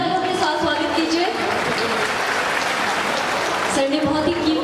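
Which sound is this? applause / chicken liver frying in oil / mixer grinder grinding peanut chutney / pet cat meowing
applause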